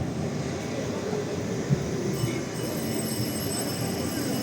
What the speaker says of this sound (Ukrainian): Трамвайчик йде. Львівський і Бернський.